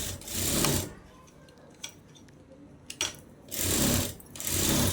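A sewing machine runs top stitching on a princess-cut garment in two short bursts of rapid whirring, quiet handling and small clicks in between, close and loud, with no talk.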